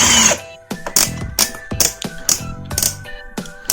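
The torque setting collar of an XAPR 12V cordless drill being turned, giving a regular series of loud, close, sharp plastic clicks, about one every half second.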